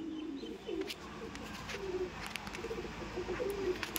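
Kaldom pigeons coo amid a large crowded flock, gentle throaty burbles repeating every second or so at moderate distance over a low background hum, with occasional light taps.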